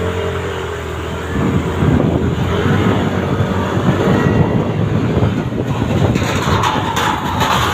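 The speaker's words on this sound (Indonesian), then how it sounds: "Nah, ini akan saya coba motornya ya teman-teman." A Yamaha Aerox/NMax scooter rides through a rural village, its engine drone building after a quiet start and joined by heavy rushing wind noise that stays loud and constant.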